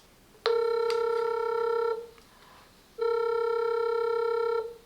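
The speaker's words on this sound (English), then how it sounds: "And it's ringing." An incoming-call ring from a SilverCrest Bluetooth car hands-free set: two loud, steady electronic tone bursts of about one and a half seconds each, separated by a short pause, with nothing else audible.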